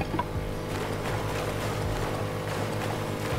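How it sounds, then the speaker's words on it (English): A steady, droning boat engine in the video game Rust hums continuously with a low rumble, loud and close, with no talking over it. "his boat's just constantly on and it's making loud noises"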